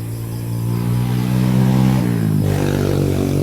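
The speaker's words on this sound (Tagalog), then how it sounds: "napakaingay po yung mga motor na dumadaan po dito" Motorcycles pass close by on a street, their engines droning loudly and continuously, with the pitch dropping as one goes by and another roars past, no talk.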